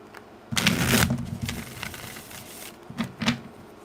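Crisp riffling bursts of tarot cards being shuffled, one long flurry followed by a couple of shorter ones, close by with no talking.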